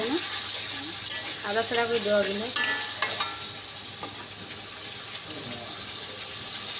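Eggs and green chillies sizzle in spice paste in a home kitchen pan for an egg korma, a steady hiss broken by stirring scrapes and clinks, with brief voice-like tones in the first few seconds.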